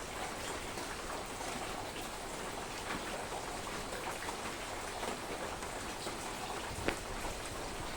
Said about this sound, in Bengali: বৃষ্টি হচ্ছে, প্রচন্ড বৃষ্টি হচ্ছে রাত।